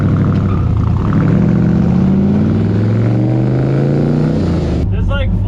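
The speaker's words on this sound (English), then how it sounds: "we're all going to load in the stock car right now" A Cadillac DeVille stock car with a long-travel whoop build drives with four people loaded inside, its engine droning loud and close with rising and falling pitch as voices talk over it.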